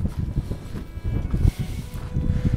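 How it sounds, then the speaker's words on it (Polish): Strong, freezing wind gusts on a Himalayan trekking trail, roaring and buffeting the microphone in uneven surges with no voices. "dodatkowo wieje straszny wiatr, taki mroźny"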